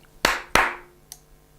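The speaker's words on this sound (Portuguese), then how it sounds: "Se eu fizer 2 vezes palmas, é a vermelha. 2 vezes palmas." Two sharp hand claps, about a third of a second apart and close to the listener, each ringing out briefly in the room to trigger a clap-activated red lamp, followed by a faint click.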